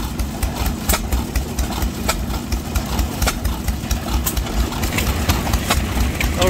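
An antique 6 horsepower gas engine runs steadily at an outdoor engine display, its low rhythmic chugging loud and close, with scattered sharp clicks over the beat.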